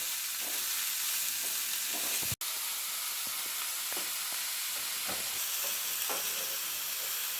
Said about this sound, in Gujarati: 2 મિનિટ માટે જ ફૂલ ગેસ પર આ રીતે સાતળવાનું છે